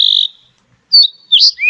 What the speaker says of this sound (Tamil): மீனுக்குருவியும் சத்தமா கத்த தொடங்கிச்சு.